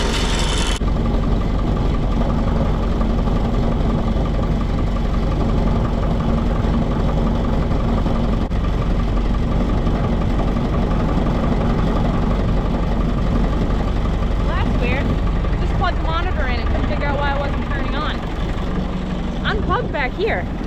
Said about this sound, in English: I'm gonna let the Massey idle for a minute.